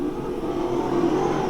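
Super sedans race past on a circuit in a 1992 Victorian title race, with a brief, steady engine drone and a rising whine at mid distance, heard alone without commentary.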